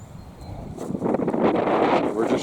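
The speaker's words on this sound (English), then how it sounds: "We're encountering a bit of the wind now." Gusty wind roars and buffets the microphone during heavy rain outdoors, building from a low rumble to a steady loud rush that holds for the rest of the moment.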